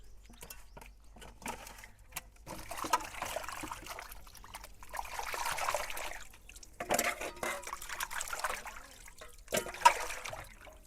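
Water trickles and pours intermittently as raw fish pieces are rinsed clean for a village-style green chilli fish curry, with soft splashes and dribbles coming in uneven bursts at close range and no voices.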